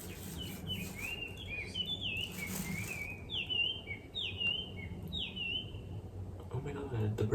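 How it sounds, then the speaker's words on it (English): Birds chirp in a series of quick, bright whistled calls in the background while someone quietly paints custom shorts with a stencil, soft rubbing and handling noises underneath. "the bird sounds"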